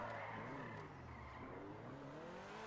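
In GTA Online, the Cheetah Classic sports car's engine drones steadily and fairly loudly while its tyres scrub and skid. No one speaks over it.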